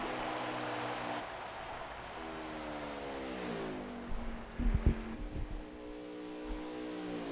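Race trucks in a CRL Truck Series event at Iowa speed toward the finish line, their engines droning as steady harmonic whines that rise and fall in pitch as they pass, loud and continuous throughout.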